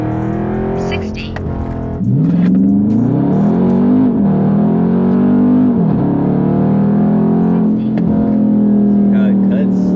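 A Dodge Charger 392 Scat Pack launches from a standstill on a 0-60 run in less-than-ideal weather. The loud V8 roar climbs in pitch, dips at each gear change, then pulls hard again, heard close from inside the car.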